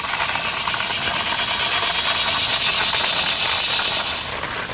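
Coffee beans are ground in a hand grinder outdoors while hiking, a close, continuous gritty rasping crunch with a slight rhythmic churn, steady throughout and easing off at the very end.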